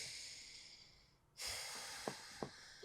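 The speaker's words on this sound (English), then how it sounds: "Breathe in." One person draws a deep breath in through the nose, a soft, close, airy inhale that comes in suddenly after near silence. A couple of faint nasal snuffs follow.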